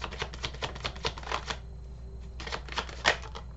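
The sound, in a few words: drawing tarot cards from a deck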